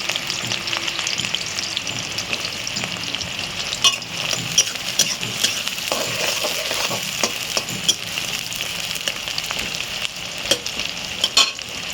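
Onions stir-fried in hot oil in a pan for veg chowmein, a steady sizzle throughout with repeated scraping and stirring clatter from the spatula, close and unbroken by talk.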